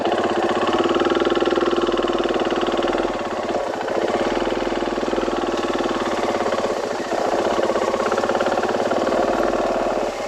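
A vehicle engine idles while it warms up, a steady, continuous mid-pitched drone with slight dips in level, close and fairly loud, with no talk over it.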